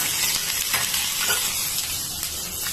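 Garlic cloves and a little tamarind fry in a pan, giving a steady, dense sizzle with faint stirring scrapes throughout, close and fairly loud with no talk.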